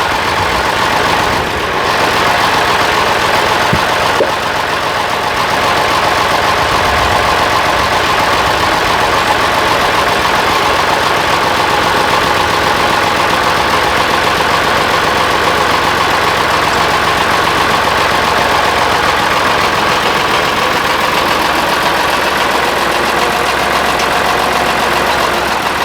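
A tractor engine idles steadily, a loud, continuous rumble with constant vibration and no speech, holding an even tone throughout with a slight shift in the low drone near the end.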